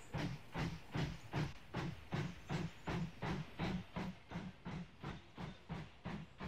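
A train runs on rails in the video game Mashinky, giving a steady, quiet rhythmic chugging with regular hissing pulses about twice a second, heard alone.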